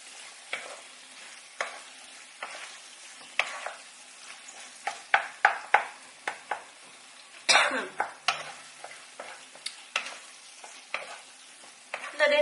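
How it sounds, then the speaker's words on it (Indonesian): Food is stirred in a frying pan for homemade lasagna, a faint sizzle beneath repeated sharp scrapes and clacks of the spatula, with a cough-like burst midway and another near the end. "Aduk rata."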